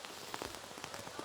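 Rain patters on surfaces at an outdoor archery World Cup compound team final in Shanghai, a soft continuous hiss dotted with faint scattered drop taps and no voices.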